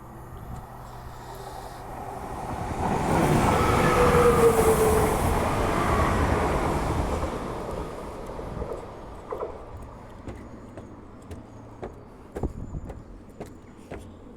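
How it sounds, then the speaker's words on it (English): A train rumbles past nearby, swelling to a loud roar and then fading away, leaving faint clicks and rattles afterward. "Here comes a train."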